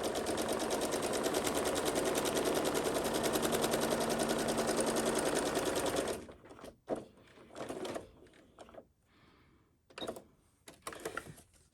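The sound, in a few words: sewing machine stitching a pleated fabric mask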